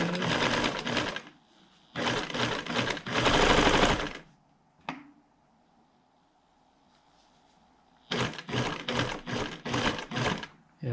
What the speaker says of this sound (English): the sewing machine doesn't seem to be having any problems